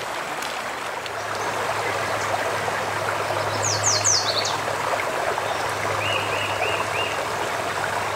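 A creek flowing at a quiet spot along a morning hiking trail, a soft continuous trickling babble with a low steady hum beneath and a few faint bird chirps calling in the distance.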